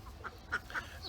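Ducks in a backyard run give several short, clipped quacks in quick succession, close by and fairly faint, with no talk.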